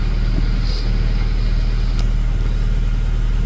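A Honda engine running on a P28 ECU fitted with upgraded QM chips idles steadily and loudly up close, its even low rumble unbroken, with no voices.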